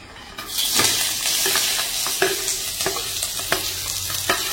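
Sliced onions sizzle in a small amount of oil for Maggi noodles, with a steady close fry and repeated sharp scrapes and clinks of stirring.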